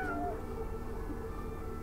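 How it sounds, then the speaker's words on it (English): A cat in the Stray video game trailer gives a brief, faint meow over a low background rumble. "That cat rules this world."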